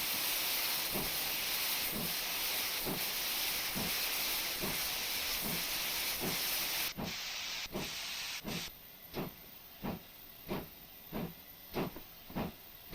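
Steam locomotive on the North Somerset Railway in Train Simulator 2021, a loud continuous hiss of escaping steam that cuts off sharply partway through, leaving steady rhythmic exhaust chuffs as the engine climbs.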